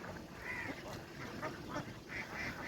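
A large flock of ducks quacking while drifting along a small canal, many overlapping nasal quacks at moderate distance, fairly faint, repeating irregularly over a low outdoor background.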